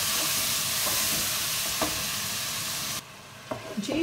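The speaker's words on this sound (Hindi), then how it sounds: "मसाले को अच्छे से हम मिक्स कर लेंगे।" Spiced masala and tomatoes are stirred in a pan, giving a loud, close sizzle with spoon scrapes that suddenly quietens partway through, followed by a few clinks.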